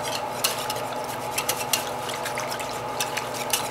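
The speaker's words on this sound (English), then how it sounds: "I'm just going to give this a stir." Oatmeal and bentonite clay are stirred into a warm shave soap mixture in a pot, with irregular utensil clinks and scrapes against the pot over a soft, wet swishing.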